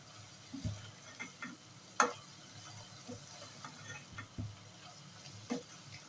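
Minced beef keema frying in a pan with garlic ginger paste, heard as a faint sizzle under scattered soft stirring scrapes and clinks, with one sharper knock of a spoon against the pan.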